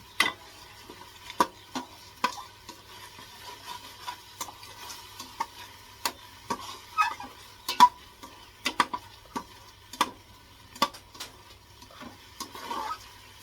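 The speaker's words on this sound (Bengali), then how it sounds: "মশলা কষায় কষায় তেল ছাড়লে দিতে হয়" Spice paste being stirred and fried in oil in a pan, with a spoon scraping and tapping in irregular strokes over a soft, steady sizzle, close and moderately quiet.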